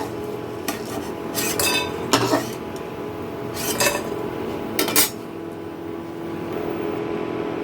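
Fried lentil dumplings lifted from hot oil with a metal utensil, several distinct clinks and scrapes against the pan standing out over a steady low hiss.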